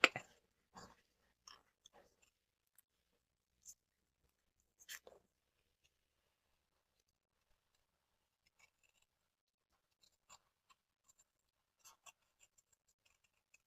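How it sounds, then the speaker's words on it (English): Scissors trim slowly around a holographic die-cut piece for a handmade bauble Christmas card, faint, sparse snips and clicks at irregular intervals separated by quiet gaps. "going to take my scissors just on a slight angle, and I'm just going to trim around that die cut"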